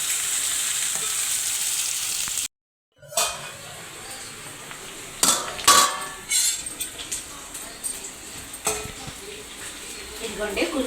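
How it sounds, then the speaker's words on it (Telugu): Onions fry in a pan, a bright steady sizzle broken by a brief dropout, then a run of clattering utensil scrapes and knocks against the pan as they are stirred. "ఉల్లిపాయ కూడా వేసుకుంటున్నాను. ఇవి బాగా ఫ్రై అవ్వనిద్దామండి"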